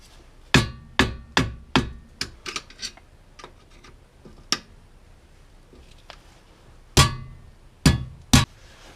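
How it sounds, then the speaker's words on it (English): Sharp metallic hammer blows on a screwdriver set in a VW MK4 rear wheel bearing to crack it, several quick strikes in a burst, then scattered lighter taps and a final cluster of hard hits, close and alone. "Alright, so I cracked these with the screwdriver"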